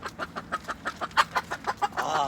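Chickens and a rooster cluck in a quick, rhythmic series of short calls while being fed gourd, parsley and roast beef, fairly close and moderately loud, with a louder busier burst of clucking at the end.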